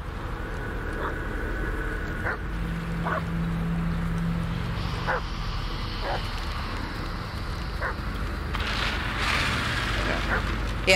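In the Blair Witch video game, a companion dog gives a series of short, sharp barks and whimpers spaced through the scene over a steady crackling, windy ambience, with no voices present.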